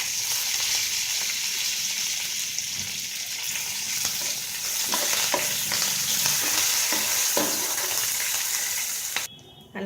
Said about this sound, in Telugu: ఇప్పుడు కరివేపాకు,